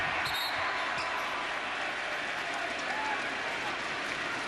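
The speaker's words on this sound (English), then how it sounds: "The Thundersticks are at work." A loud NBA playoff arena crowd bangs thundersticks during a Bucks at Pistons game, a dense, continuous roar of clattering and cheering throughout.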